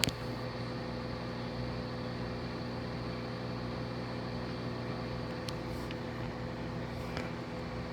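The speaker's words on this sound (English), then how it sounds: "load in the microwave here. Let's go for 30 seconds" A microwave oven runs steadily with a glitter heat-transfer-vinyl coffee mug inside, giving a constant humming drone with a faint buzz, close and unbroken throughout.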